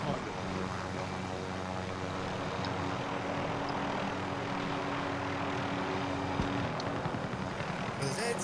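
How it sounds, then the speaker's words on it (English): A helicopter slowly descends to land in a first-person shooter video game, its engine and rotor droning steadily and fairly loud throughout, with occasional small in-game clicks. "this helicopter goes down so freaking slowly"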